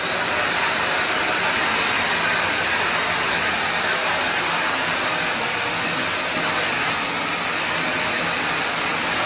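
A handheld vacuum cleaner with a hose and brush attachments runs at strong suction, giving a loud, steady, unbroken whoosh of airflow close by for the whole stretch, with no talk.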